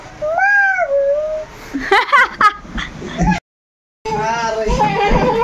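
A voice mimics a cat's meow with drawn-out wavering cries, broken by giggly babble and a brief silence, then another long meow.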